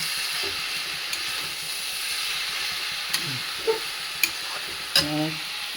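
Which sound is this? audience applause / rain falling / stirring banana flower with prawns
stirring banana flower with prawns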